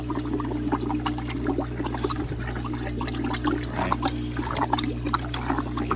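An aquarium sponge filter squeezed in a bucket of tank water: continuous sloshing and trickling, with soft dribbling and squelching under a low steady hum.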